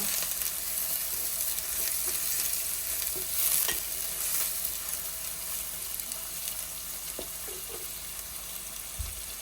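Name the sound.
food frying on low flame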